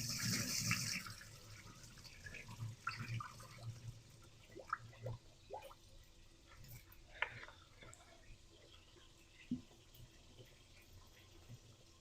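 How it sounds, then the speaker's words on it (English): Quiet splashing and swishing of rice being washed in cold water in a bowl, with soft irregular sloshes and small clinks, faint and close. "we're just going to wash our rice, okay? All right. Cold water."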